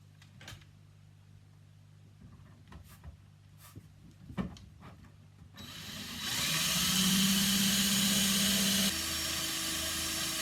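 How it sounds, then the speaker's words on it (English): A drill bores holes for M5 bolts in a 1/200 Trumpeter Hood model hull. Faint handling taps give way to a loud, steady drill whine that runs for several seconds and then drops to a lower hum. "we need to drill the correct size hole for these M5 bolts"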